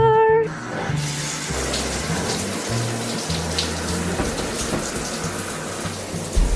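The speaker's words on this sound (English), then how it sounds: "Let's go take a shower." A household shower runs in a steady, continuous stream of water close by, a constant hiss with faint low hum beneath it and no talking.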